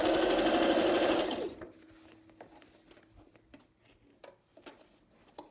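A sewing machine stitches a sleeve into a garment in a fast, loud, steady whir that stops after about a second and a half, followed by faint clicks and handling of fabric.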